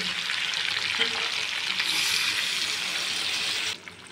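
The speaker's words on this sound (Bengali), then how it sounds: "আমার মাংস কষানো হয়ে গেছে, তো আমি এখন জলগুলো দিয়ে দেবো।" Water is poured into chicken cooking in a pan, making a loud, close hiss and bubbling rush that swells midway and then suddenly drops off near the end.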